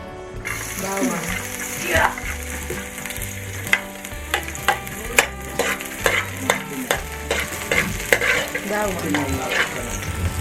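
Garlic sizzles in hot oil in a wok while a spatula stirs it in quick, repeated clattering strokes over a loud, steady frying hiss, with a low hum beneath.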